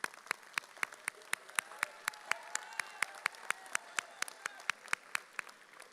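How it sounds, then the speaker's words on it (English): Graduates at a spring commencement ceremony clap for their family and friends, heard as a steady, sharply regular run of claps at a quick, even pace, with a faint voice underneath. "Give them a round of applause"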